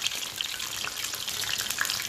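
Stuffed eggplants frying in hot oil, a dense close crackling sizzle with sharp pops scattered through, steady and uninterrupted with no voices.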